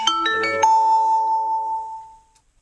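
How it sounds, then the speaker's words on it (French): A phone ringtone plays as a short melodic chime, a few quick bright notes and then one sustained tone that rings out and fades to silence, clear and close with no voices. "J'ai eu que des jolies sonneries sur mon téléphone."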